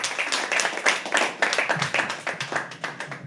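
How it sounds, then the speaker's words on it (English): Audience at a live poetry open mic clapping steadily, a dense run of individual hand claps from a modest crowd, fairly close and continuous with a few voices faintly mixed in. "Guys, please keep the applause going and welcome on Preeti."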